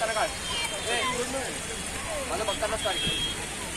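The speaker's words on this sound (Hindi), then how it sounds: "और बारिश भी आ रही है" Rain falls steadily on a hill near Lonavala lake, a continuous soft patter under someone talking close by.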